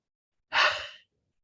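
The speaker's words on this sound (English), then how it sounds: "Exhale" A single slow exhale during a guided meditation: one soft, breathy rush of air, close and clear, lasting about half a second, then silence.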